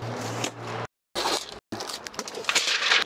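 Protective plastic film peeled off a new Tesla Model 3 Long Range, crackling and tearing bursts in several pulls separated by brief silences, close by.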